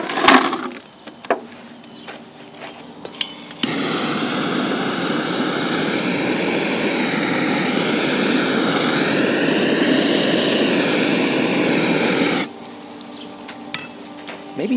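Oak apples set alight in a fire, with a loud continuous roaring whoosh that lasts several seconds, framed by quieter crackling and knocking before and after.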